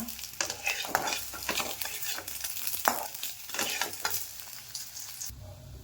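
Eggs roast in a pan while a spatula stirs and scrapes them repeatedly, producing a close, busy sizzle with irregular scraping strokes that cut off abruptly near the end.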